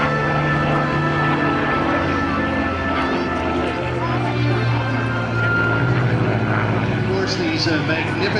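A Rolls-Royce Merlin 61 V12 liquid-cooled engine of 1,660 horsepower in a 1942 warbird drones steadily at an airshow, its low propeller roar holding throughout with a rising, brighter pass near the end, while a commentator talks over it.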